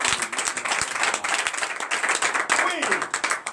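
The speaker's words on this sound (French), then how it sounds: "Donnez l'acclamation à Jésus." A church congregation clapping and cheering in acclamation to Jesus during morning prayer, dense irregular applause mixed with voices calling out, lively and close.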